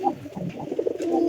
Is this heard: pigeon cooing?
yes